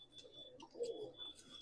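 Young Madrasi and Punjabi pigeons in a loft give soft, low cooing calls, close and quiet for under two seconds, with faint background hiss.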